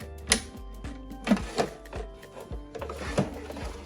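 A Janome 500E embroidery machine sewing a placement stitch for an in-the-hoop Christmas ornament on felt, close, steady mechanical whirring with rhythmic thumps and clacks recurring roughly every second.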